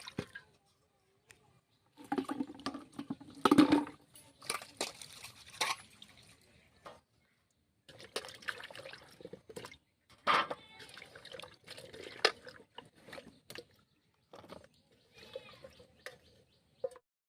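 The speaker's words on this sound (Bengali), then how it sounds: "আলুটা আমার কাটা হয়ে গেছে, এখন ধুয়ে তুলে নেব।" Cut potatoes are washed by hand in water, making intermittent splashes, sloshes and drips in short bursts separated by quiet pauses, close and fairly soft.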